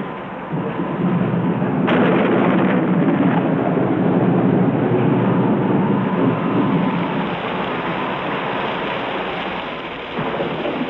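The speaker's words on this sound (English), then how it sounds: "For 4 months, it will rain almost every day." Heavy rain in an African forest during the long rainy season, a dense continuous downpour hissing close and loud, with a sharp crack and rumble of thunder breaking through early on.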